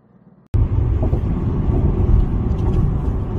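Inside a moving passenger car, the steady engine and road rumble cuts in abruptly and carries on loud and even, low and droning, with no talk over it.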